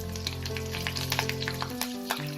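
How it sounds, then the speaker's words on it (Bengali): Green chilies fry lightly in hot oil for Mumbai vada pav, a close, dense sizzle with quick crackling pops throughout and no voices. "এই কাঁচা লঙ্কাগুলোকে হালকা ফ্রাই করে নেব"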